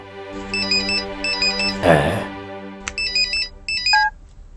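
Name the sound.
phone ringing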